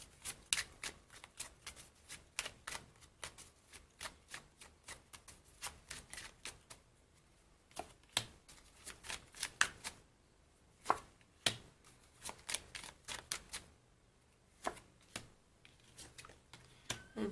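Tarot cards shuffled in quick bursts of crisp riffling clicks, close and fairly quiet, pausing briefly between rounds before cards are drawn.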